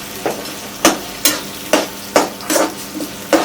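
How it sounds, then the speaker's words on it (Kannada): Ginger, cinnamon and cashews fry in oil with a steady sizzle, broken by about eight sharp spoon scrapes and clinks against the pan in an uneven stirring rhythm, close by with no talking. "ಇದನ್ನು ಚಂದ ಮಾಡಿ ಫ್ರೈ ಮಾಡ್ಬೇಕೀಗ"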